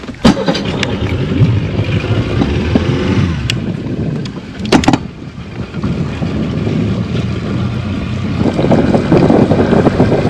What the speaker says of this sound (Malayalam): അപ്പോൾ നമ്മളിപ്പോ ഇനി ഇപ്പോൾ ഇവിടുന്ന് ബോട്ട് എടുക്കുന്നു